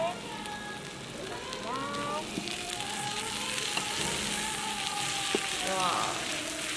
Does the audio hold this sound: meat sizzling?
yes